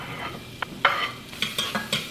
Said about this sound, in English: I just put olive oil and I'm gonna do my onions.